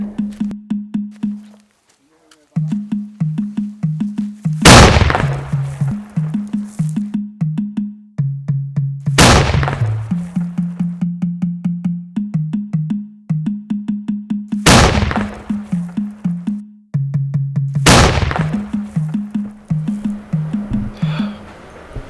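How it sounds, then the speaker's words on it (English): Cannon fire in a Nigerian movie scene: four loud, sharp booms spaced a few seconds apart, each decaying quickly, cutting through continuous rhythmic background music. "and now the cannon."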